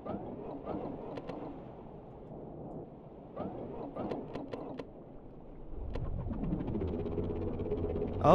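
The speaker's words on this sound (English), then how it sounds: "Oh, engine seems to be online." An engine starting up in a video game: quiet clicks and rustling give way to a rising, steady mechanical hum and whir that grows louder toward the end.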